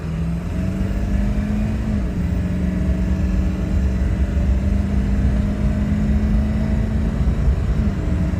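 A Ford diesel pickup truck driving, its engine holding a steady low drone with road and tyre roar throughout, loud and close from inside, with a brief pitch shift around two seconds and no talking.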